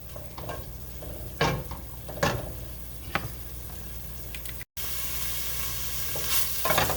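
Onions sizzling and frying in a soup pot, a steady hiss broken by several scraping stirs, close and moderately loud with no talking.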